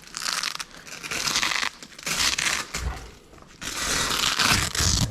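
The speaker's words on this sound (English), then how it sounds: "Peel back this Velcro" Velcro strap being peeled back on the rear side of an overland vehicle awning, several loud ripping tears in separate bursts with brief pauses between, close up.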